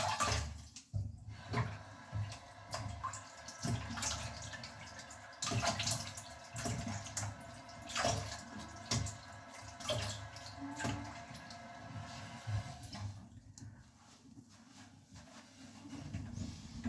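Tap water runs steadily and is splashed around while a face is washed after a straight-razor shave, a continuous close rushing hiss broken by uneven splashes and drips, with no talking.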